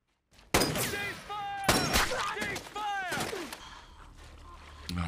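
Gunfire from a WWII combat scene set on Okinawa: sharp, loud broadband shots burst in a few separate volleys, with shouted voices and talk heard between and over the firing.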